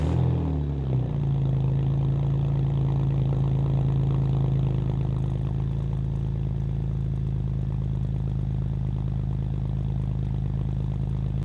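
A BMW E46 engine cranks and settles into a steady, low, rough idle that stays loud and continuous throughout, with no one speaking.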